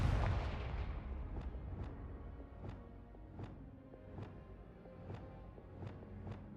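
Confringo blasting spell in the Hogwarts Legacy video game: a loud opening boom that decays, followed by a series of sharp, evenly spaced blast-like impacts over a rumbling, busy game soundscape with no talk.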